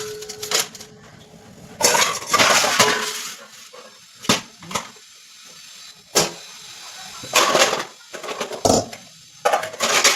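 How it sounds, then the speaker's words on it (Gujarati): Steel utensils arranged in a home kitchen, scattered metallic clinks and clattering bursts of pots and plates set down and shifted, close and fairly loud with quiet gaps between. "વાસણ ગોઠવી દઈશું."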